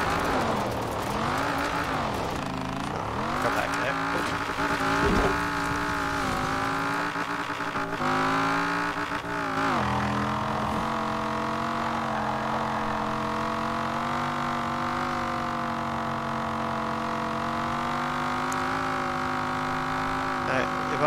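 A 1968 Mustang GT engine in the Forza Horizon 4 racing game revs hard and steadily, its pitch rising and falling through gear changes before holding a loud, sustained drone, close up throughout.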